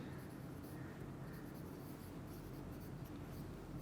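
Someone writes a heading on a board during an online chemistry lecture, the faint, steady scratching buried under a constant low hum and noise, with no speech over it.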